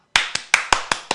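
Six crisp, sharp hand claps ring out close and loud at a loose, slightly uneven pace, each one dying away quickly into quiet between strikes, with no voices.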